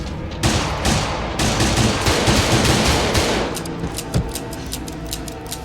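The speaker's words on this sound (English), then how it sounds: "Gus continues shooting his gun intensely even after he's run out of bullets" Gus firing a handgun in a Better Call Saul scene: a loud, dense burst of rapid gunshots that roars continuously, then thins to a sparser clatter of cracks and clicks.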